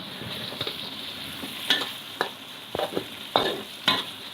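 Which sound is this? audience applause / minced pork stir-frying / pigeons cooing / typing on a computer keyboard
minced pork stir-frying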